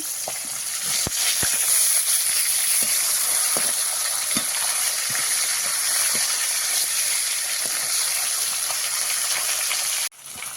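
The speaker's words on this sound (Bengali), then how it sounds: "সবটা মাছ ভাজা হয়ে গেল" Fish fries in hot oil in a pan with a loud, dense, steady sizzle and crackle running close and unbroken, scattered sharp pops, until it cuts off abruptly near the end.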